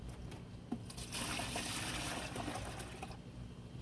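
Homemade fish hydrolysate mixture is poured into a container, a close liquid trickle and splash that swells to a steady stream, with no talking.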